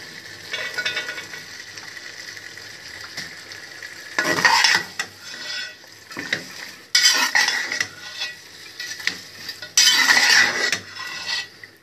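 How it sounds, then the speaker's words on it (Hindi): A spoon stirs fried potato chips into a spiced egg masala in a hot pan, giving scraping, clinking strokes in three louder bursts over a soft background sizzle, with no talking. "ये मसाला इसमें मिक्स हो रहा है, ये आप देख सकते हैं।"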